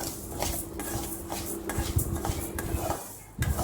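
Parboiled rice being dry-roasted in a pan over a slow flame, with repeated metallic scrapes and clinks of a spoon stirring the grains in an irregular rhythm, close and fairly loud.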